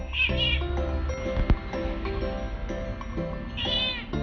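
A cat meows several times, close and fairly loud, with drawn-out calls at the start and again near the end and a sharp knock in the middle.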